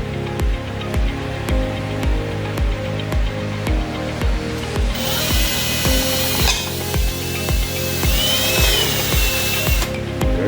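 A power drill bores two holes through a tool case held over the edge of a workbench, giving a steady whirring hum with rhythmic pulses. Partway through, a harsher, louder grinding sets in as the bit cuts through the material.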